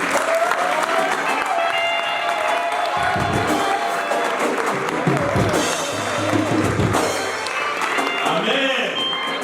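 Church congregation applauding and cheering at a sermon, a dense steady wash of clapping with crowd voices throughout, loud and close, with some speech-like tones mixed in.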